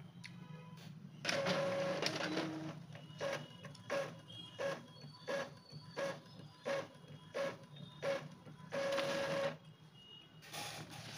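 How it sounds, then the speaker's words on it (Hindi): Epson printer printing a page, a mechanical whirring and chattering in regular pulses as the print head shuttles back and forth, with longer feed passes at the start and near the end, moderately quiet and without speech. "ये मैं यहाँ से दोबारा से आपको जो प्रिंट की कमांड देकर दिखाता हूँ।"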